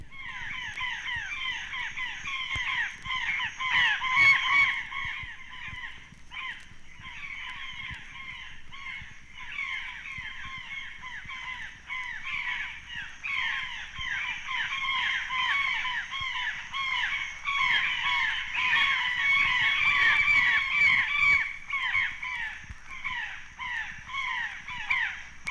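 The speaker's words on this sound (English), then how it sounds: "The brown jay of eastern Mexico has a quite limited vocabulary. Here is an excited flock in Veracruz." An excited flock of brown jays in Veracruz, Mexico calls constantly, with harsh, overlapping cawing cries that swell and fade over a long stretch, fairly close and unaccompanied by voices.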